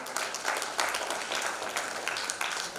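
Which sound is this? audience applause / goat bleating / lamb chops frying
audience applause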